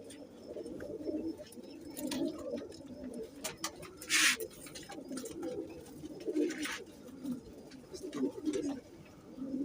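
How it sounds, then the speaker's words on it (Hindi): Cheeny pigeons cooing close by, two pairs of males and females giving repeated low throaty coos in rolling bursts, with a few sharper wing flutters and faint background noise. "माशाल्लाह बड़े अच्छे कबूतर हैं"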